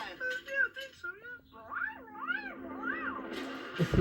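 Cartoon cat Pilchard from Bob the Builder meows in a string of rising and falling calls, close and clear, followed by a brief clatter at the end; no talking.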